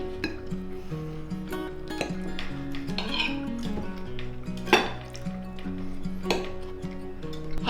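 Food is mixed in a pan with a spoon, giving a string of light clinks and scrapes against the metal under quiet background music.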